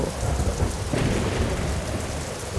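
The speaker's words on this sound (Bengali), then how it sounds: "হঠাৎ খুব জোরে বিদ্যুৎ চমকালো আর আকাশ থেকে বড় বড় বৃষ্টির ফোঁটা পড়তে শুরু করলো" Thunder rumbles over a steady wash of heavy rain beginning to pour, the storm noise broad, loud and continuous with no voices.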